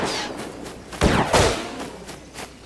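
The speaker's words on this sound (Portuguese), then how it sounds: "Quem é que tá dando tiro?" Gunfire in the survival video game Rust, a burst of a few sharp shots in the middle cutting through quieter background game noise, with no talking.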